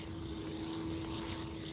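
A propeller airplane drones steadily overhead, a continuous engine hum with a fixed tone held evenly for under two seconds, with no voices.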